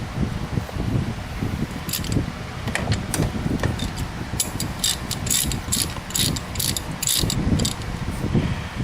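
A hand ratchet turns 5/8 inch bolts with large washers on a Polaris Sportsman ATV, producing rapid bursts of clicking pawl strokes in uneven runs, close and clear over low rustling and handling noise.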